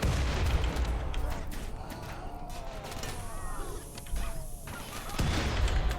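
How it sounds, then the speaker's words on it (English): Explosions and gunfire from a battle in the fantasy game RimWorld of Magic, where dwarves fight mechanoids: a dense rolling barrage of booms and cracks throughout, loud and continuous. "What's that explosion noise?"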